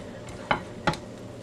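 A keto broccoli salad is mixed, giving two short, crisp scraping strokes close by over a low, steady background hum.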